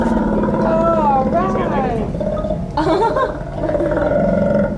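A sea lion at a marine park feeding presentation lets out a series of loud, wavering barks and groaning roars, several calls in a row, close by with crowd noise around.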